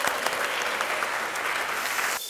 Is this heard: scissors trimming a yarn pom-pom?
no